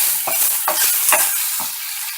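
Onions for a curry fry in a pan and get stirred, with soft sizzling under four distinct scraping strokes spaced roughly half a second apart, close and moderately loud.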